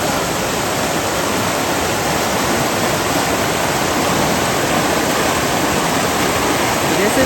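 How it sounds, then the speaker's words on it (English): A waterfall crashing down with a dense, steady roar, loud and close and unbroken throughout, with no voices over it. "This is above the waterfall, right before the waterfall hits down here."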